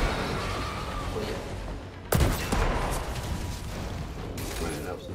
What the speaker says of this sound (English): Try to shoot some of these guys.